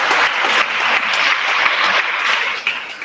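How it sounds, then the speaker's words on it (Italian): Sustained audience applause at an Italian talk on language and gender, a dense, steady wash of many hands clapping that stays loud throughout and thins slightly near the end. "ecco l'applauso"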